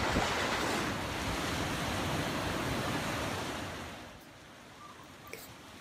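Ocean surf at Poipu Beach on Kauai, Hawaii, a loud continuous wash of breaking waves with some wind noise on the microphone that fades slightly toward the end.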